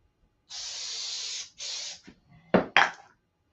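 CA glue activator is sprayed in two hissing bursts, a longer one then a shorter one, followed by a few quick clicks and knocks from handling the bottle.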